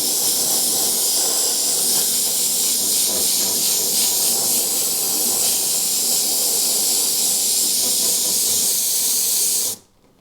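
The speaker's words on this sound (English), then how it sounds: "So using some phthalo green, I'm going to airbrush in the base." Phthalo green paint hisses from an airbrush in one continuous, close, even spray lasting about ten seconds, then cuts off abruptly into silence.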